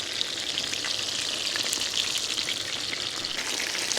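Fish frying on a tawa in mustard oil gives a loud, dense, continuous sizzle with crackling spatter, close up and steady throughout, with no voices.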